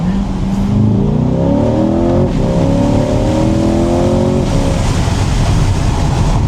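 A C8 Corvette Z51, 495 hp, accelerating hard in manual mode on a back road, the engine note climbing loudly through the revs with a brief dip at a gear change before rising again.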